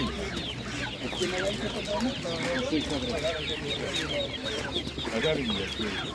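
Many chickens cluck and squawk together in a busy, continuous chorus at an animal market in Ivano-Frankivsk, with roosters among them and faint voices in the background.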